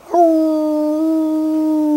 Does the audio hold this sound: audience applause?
no